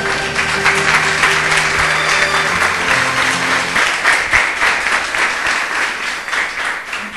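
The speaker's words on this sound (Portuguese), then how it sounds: "Louve a Deus com suas palmas bem forte." A church congregation claps hands loudly and steadily, dense close applause with sustained organ or keyboard tones underneath that drop away midway while the clapping carries on.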